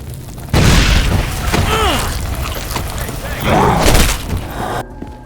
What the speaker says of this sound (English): Chucked a grenade at a bunch of zombies.